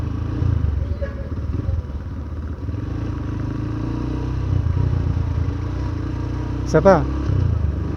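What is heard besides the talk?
engine rev blips during rev-matched downshifts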